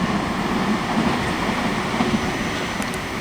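A South Western Railway train passes through Weybridge station on the South West Main Line, a loud, close, sustained rumble of wheels and carriages with faint squeals near the end and no talk.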